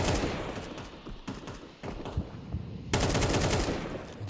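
Rapid automatic gunfire bursts rattle through a Counter-Strike esports match, dense crackling volleys with brief pauses, loud and close, no talking over it.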